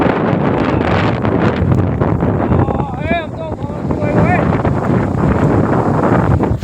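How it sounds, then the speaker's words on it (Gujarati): Strong storm wind roars steadily outdoors during a sudden unseasonal storm, loud and continuous across the whole stretch, with a brief high whistling gust in the middle. "કેવો પવન ઉડ્યો હે."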